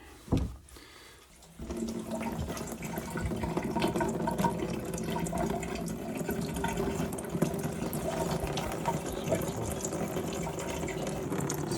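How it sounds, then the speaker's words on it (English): Water gushes steadily from a freeze-burst pipe fitting at an off-grid property after a brief clatter as the supply is turned on, then a loud, continuous splashing spray pours out without pause. "So I'm going to turn the water on now. It's going to pour out of here like a sieve"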